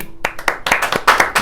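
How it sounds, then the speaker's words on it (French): A small audience claps during a talk with Patrick Haddad, a close, fairly loud burst of distinct individual hand claps in an uneven rhythm, alone without talk. "Et on peut applaudir quand même."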